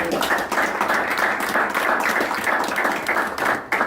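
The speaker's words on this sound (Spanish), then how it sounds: "Un aplauso nuevamente." Applause from a seated audience after a talk at a church lecture event, a steady, moderately loud stretch of clapping that continues evenly without voices.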